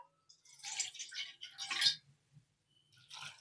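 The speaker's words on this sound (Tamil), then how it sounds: "1/4 கப்பு தண்ணி ஊற்றணுங்க" Water is splashed from a cup into a pan holding half a cup of jaggery to make sweet syrup, giving a few close, bright pouring and dripping bursts with short pauses between them.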